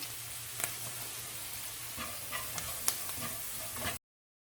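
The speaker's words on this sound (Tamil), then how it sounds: "ஒரு நிமிஷம் வதக்கிட்டு" Cabbage, capsicum and other vegetables sautéing in a pan for vegetable noodles, with a soft steady sizzle and a few light clicks of a spatula stirring, close and fairly quiet, without speech.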